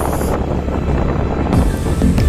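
Strong outdoor wind buffets the microphone in loud, rumbling gusts, a continuous close roar with no break.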